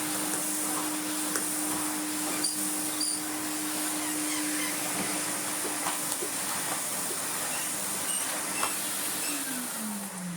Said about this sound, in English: he's certainly able to do some vacuuming now.